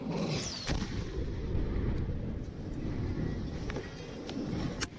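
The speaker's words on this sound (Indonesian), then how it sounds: "Parade tembakan dari alutsista milik tiga kesatuan dikerahkan untuk menumpas lawan." Military artillery and weapons fire at a joint exercise of Indonesian army, navy and air force units in Situbondo, heard as a series of distant booms and sharp cracks over a steady rumble, with several separate reports spread across the stretch.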